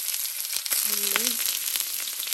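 Onion and garlic sizzle steadily in hot oil for a tapioca masala stir fry, a close, continuous frying hiss with one brief tonal squeak partway through.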